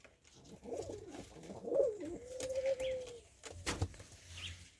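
A Capuchine pigeon coos from its nest during breeding in Jamaica, giving soft repeated throaty coos and one drawn-out tone, close by, over faint background rustling and a brief clatter.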